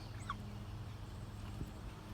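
Backyard chickens in a chicken run, with a brief squawk early on over a steady low hum and background clucking, fairly faint and without any talking.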